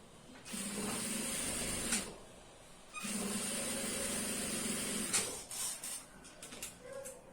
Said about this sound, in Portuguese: passar uma costura reta ali na beiradinha, para segurar o forro junto com o restante ali do acabamento